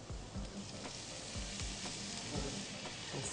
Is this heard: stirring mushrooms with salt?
yes